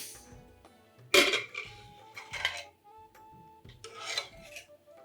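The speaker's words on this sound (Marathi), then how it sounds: "कुकर पण थंड झालंय मला वाटतं ना, हो. उघडून बघ ना." A cooled pressure cooker holding millet khichdi is opened nearby: bursts of metallic scraping, rasping and clattering as the lid is worked loose, separated by brief quiet pauses.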